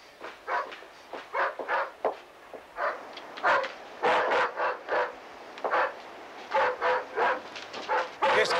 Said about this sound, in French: Qu'est-ce qu'il a ce chien, Madame Schmidt?